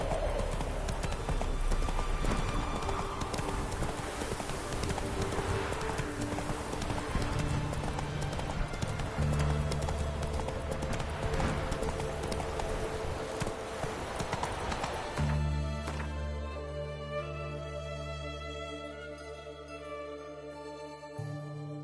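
Roach the horse galloping in Witcher 3, rapid rhythmic hoofbeats pounding steadily at close range over a continuous game soundscape with music, the hooves thinning out toward the end.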